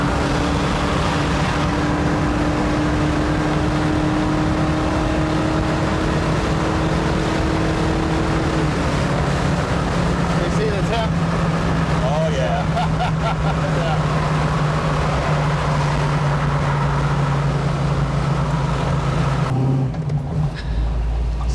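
A 1974 Chevy Camaro with a carbureted engine runs continuously at close range, a loud steady rumble whose pitch rises and later drops as it is revved without shifting gears, with a brief cut near the end.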